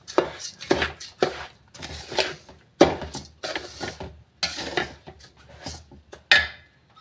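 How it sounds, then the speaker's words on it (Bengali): Gobindobhog rice with raisins being stirred and fried in a pan for pulao, heard as close, repeated scraping and knocking strokes of a spatula against the pan in uneven bursts, with no talk. "দেখুন ভাজছি আমি"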